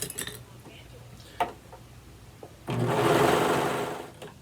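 A serger overlock machine sews a romper seam, with a few faint clicks and handling taps before a loud, close burst of rapid whirring stitching for about two seconds that then trails off.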